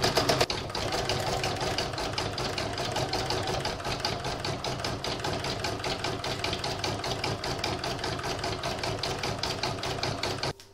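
An embroidery machine stitches satin stitch for a spiderweb design, a loud, steady mechanical whir with rapid needle chatter running continuously and close, with no talk, before cutting off at the end.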